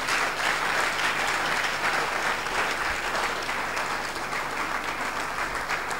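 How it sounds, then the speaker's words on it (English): An audience at a university convocation lecture gives the guest lecturer a sustained round of applause, dense steady clapping filling the whole stretch at moderate distance. "I think we should just give the guest lecturer another round of applause."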